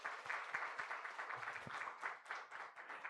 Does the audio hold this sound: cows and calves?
no